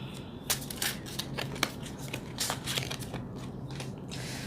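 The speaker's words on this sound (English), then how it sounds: "As I shuffle the cards and get the reading ready" Tarot cards shuffled by hand, a close, quiet series of soft riffling slaps and brushing ticks in an irregular rhythm over a faint low hum.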